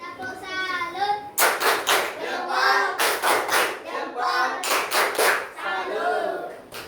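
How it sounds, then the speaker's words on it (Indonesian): Schoolchildren perform the "tepuk salut" rhythmic salute clap, sharp bursts of group clapping in a patterned rhythm mixed with children's shouted voices, loud and close throughout. "Tepuk salut."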